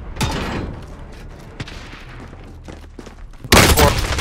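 Gunshots in a Call of Duty match: scattered sharp cracks and thumps, several at mid distance, and then a loud, dense burst of shots at the very end.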